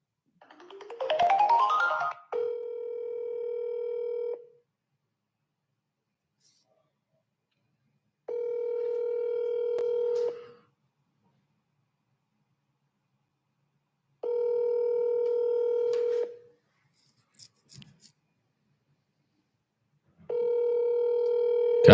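Telephone tones from an outgoing call to a property seller: a short rising burst, then four steady buzzing tones of about two seconds each, repeating at even intervals with silence between, loud and close, with no talking.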